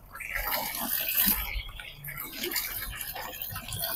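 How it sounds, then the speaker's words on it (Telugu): Tap water runs into a tub being filled for a dog's bath, a soft uneven splashing and gurgling that carries on throughout at low volume, with faint background voices. "మమ్మీ టబ్బులో వాటర్ పడుతుంది"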